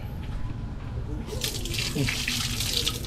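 Water splashes steadily from a tap into a sink, a continuous hissing rush close by.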